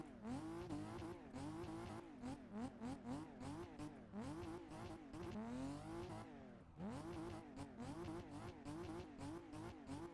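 A BMW E36 drifting on snow in the Assetto Corsa racing game, its engine revving up and down repeatedly with bursts of tire squeal during handbrake slides, loud and continuous.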